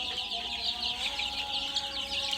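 Fayoumi and tiger chickens cluck continuously in a dense, busy chorus, with steady clucking and chatter filling the air from many birds at once.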